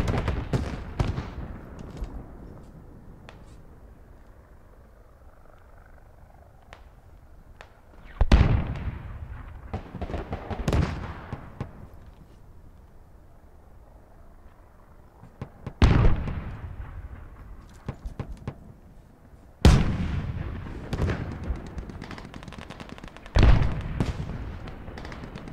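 Gunfire and explosions from the military shooter game Squad: scattered sharp shots and several heavy booming blasts with long rumbling tails, some near and loud, others distant, separated by quieter stretches.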